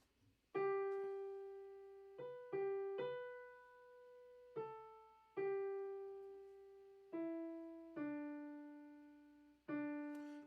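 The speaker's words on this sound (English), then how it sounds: "Hopefully we'll be able to hear my piano." A piano plays a simple single-note line in a 3/4 rhythm, with clear sustained tones of uneven lengths that each fade slowly, heard close and alone with no talking.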